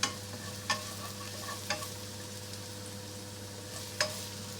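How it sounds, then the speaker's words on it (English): Ginger and garlic frying in a pan, a quiet steady sizzle with a few sharp utensil clicks against the pan scattered through, no voices. "I'm going to fry ginger and garlic first"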